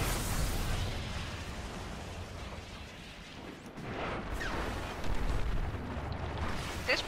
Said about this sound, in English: This pulse rifle I'm using is really intense. Like, it just... such a high rate of fire